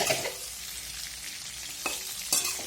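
Capsicum (bell pepper) sizzles steadily as it fries in a pan, with two short bursts of scraping as it is stirred near the end.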